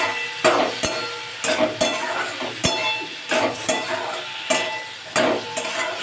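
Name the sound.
sautéing tomato and mustard masala in pan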